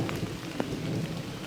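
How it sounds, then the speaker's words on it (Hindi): Rain falls in the dense Abujhmarh forest as a steady, even hiss with faint patters, while a soft distant thunder-like rumble runs beneath and one brief crack sounds partway through. "रास्ते में बारिश शुरू हो गई है।"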